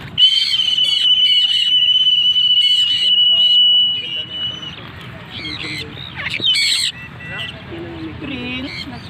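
Green-cheeked and sun conure parrots call in free flight outdoors, a sustained shrill whistle followed by scattered squawks and chirps at mid distance, with faint talk underneath.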